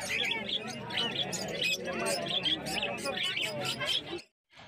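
Pet birds at the Uluberia bird market chirp and tweet densely and continuously among the market hubbub, a busy layered chorus of small calls before it cuts out abruptly near the end.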